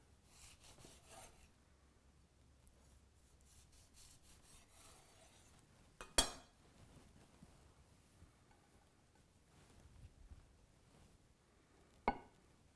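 A knife slices a lemon for garnish on a cutting board: quiet, soft scraping and rubbing throughout, with two sharp, crisp knife knocks spaced several seconds apart.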